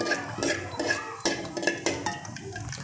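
Half a spoon of cumin seeds going into hot oil in a wok for Hyderabadi-style stuffed eggplant, with a crackling sizzle mixed with clinks and scrapes of a spoon against metal, close and busy.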